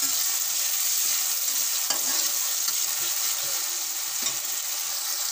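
Onions sizzle steadily in hot oil while a utensil stirs them, with occasional scraping clicks over the constant frying hiss.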